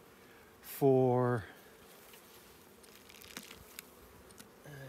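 Honeybees hum in an open hive during an inspection: a low, steady, faint drone runs throughout, briefly masked by one short spoken word near the start.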